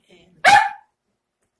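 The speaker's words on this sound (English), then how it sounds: "that was my dog who said, yep," A single sharp dog bark rings out close by indoors, brief and loud, with a faint murmur of a voice just before it.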